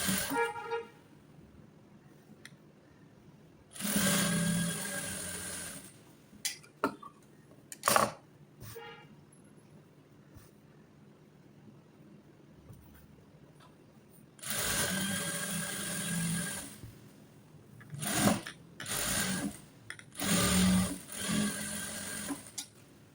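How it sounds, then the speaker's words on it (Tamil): Sewing machine stitching around a blouse band, running in several bursts of a few seconds each, separated by quiet pauses and short clicks. "சுற்றிலும் ஒரு தையல் போட்டுக்கோங்க"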